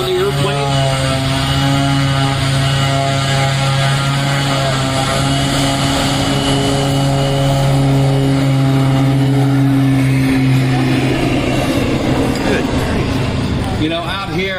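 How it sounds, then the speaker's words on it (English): A loud turboprop airplane engine roars close by at a runway in Livermore, California, during a STOL event, its steady droning tone sliding lower as it passes and fades into a rushing wash. "we can feel that engine go by"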